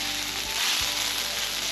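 Onions cook down on a Blackstone griddle with a constant, close sizzle and a couple of soft low bumps partway through, with no talking.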